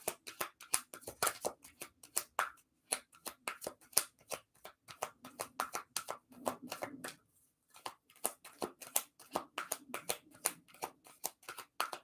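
Tarot cards are shuffled over and over in quick, close riffling and slapping bursts, with two brief pauses between runs and no talking.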